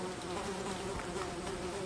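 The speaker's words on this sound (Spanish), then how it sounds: "Un montón de moscas" In the Akai Onna horror video game, a swarm of flies buzzes over piled garbage as a dense, steady drone that fills the scene without pause, with no voices.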